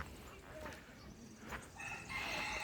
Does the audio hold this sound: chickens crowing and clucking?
yes